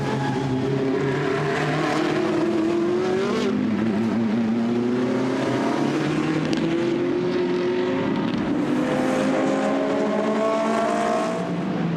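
GT sports race cars roar around the Misano circuit, a dense, continuous engine drone with shifting, rising pitches as several cars pass, loud and unbroken throughout.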